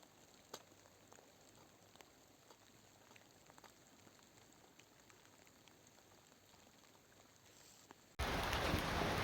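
Rain falling at Dudwayaan in Karnah patters faintly and steadily as soft scattered drops, then a sudden loud burst of broadband noise takes over in the final second.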